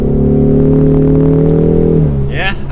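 A 2023 Ford Mustang EcoBoost four-cylinder revs loudly and steadily, its droning engine note climbing toward redline for about two seconds before letting off, with a short rising whine afterward.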